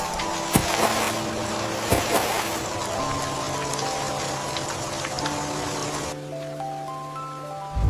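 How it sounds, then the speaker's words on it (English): Gentle rain over a peaceful meadow, a soft steady patter with scattered sharper drop ticks, heard under sustained soft music tones that linger and thin out toward the end. "listening to each raindrop fall ever so gently."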